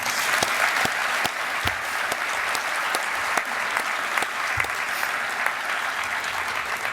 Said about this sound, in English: you deserve a round of applause for sure.